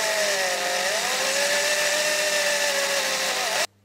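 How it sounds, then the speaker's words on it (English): A power drill boring through metal whines steadily at a constant pitch, loud and close, running continuously for several seconds before cutting off abruptly. "So I'll drill with about a 6mm first, dead center there, and then I'll drill it out with the 8"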